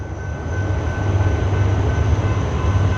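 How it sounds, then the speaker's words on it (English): A train passes close by in Henry County, Georgia, a loud steady rumble with a thin high tone running through it and no talk. "Ooh, a train."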